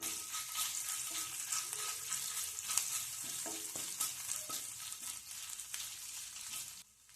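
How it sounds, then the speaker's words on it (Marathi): Ginger garlic paste sputters in oil in a pan over full heat, a dense, continuous sizzle with scattered clinks of stirring, tapering off near the end. "त्यामध्ये दोन चमचे तेल त्यामध्ये आले लसणाची पेस्ट टाकायची आहे आणि गॅस फुल करायचा आणि दोन मिनटं व्यवस्थित परतून घ्यायची"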